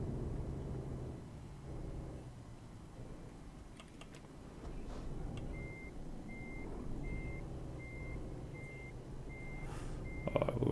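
A heavy truck in Euro Truck Simulator 2 reverses into a parking lane, its backup alarm beeping in a steady, evenly spaced series over a low engine rumble with scattered clicks.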